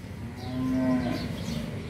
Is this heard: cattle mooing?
yes